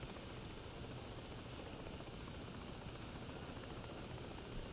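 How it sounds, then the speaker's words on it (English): A helicopter in the video game Ghost Recon Breakpoint flies steadily, its rotor and engine producing a continuous broad, roaring drone with a low throbbing beat, close and unbroken. "the helicopter seems a lot slower."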